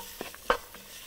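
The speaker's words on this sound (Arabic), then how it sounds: "ونقلب الرو." A roux for béchamel sauce is stirred in a pan, with a few brief scraping strokes over a faint, low sizzle.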